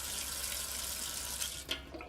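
Water runs steadily from a tap, close and continuous as a broad hiss, with a few small splashes near the end and no talking.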